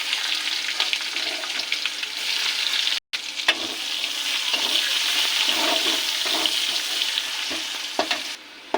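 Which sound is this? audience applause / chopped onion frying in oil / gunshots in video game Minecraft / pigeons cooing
chopped onion frying in oil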